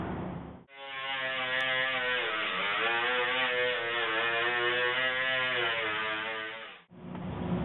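A grinder takes primer off a steel car body panel, giving a steady, loud, droning whine that runs for about six seconds with a slight pitch dip early on, close, between short cuts of other noise.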